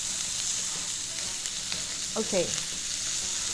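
Pork shoulder for Korean spicy stir-fried pork sizzles steadily in a hot pan, a broad continuous hiss with a brief scrape of stirring near the end and a short spoken word over it.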